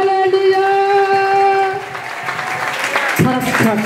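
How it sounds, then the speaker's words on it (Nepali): A church congregation at a Christmas service claps together, a steady wash of applause running under a loud sung or spoken voice, rising briefly near the end. "ताली बजाउनुस् एकदम"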